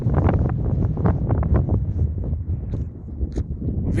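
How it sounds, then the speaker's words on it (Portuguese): Steady wind buffeting the microphone outdoors at a model aircraft flying field, a loud low rumble with gusty rustling that runs continuously through the whole clip. "O vento aqui é pouca coisa"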